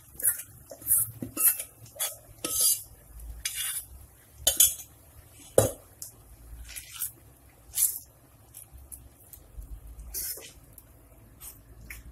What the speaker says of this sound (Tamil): அடி பிடிக்க மெதுவா கிளறிட்டே இருங்க